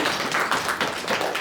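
A crowd claps at a members' summit, steady applause lasting only a moment, dense and fairly loud.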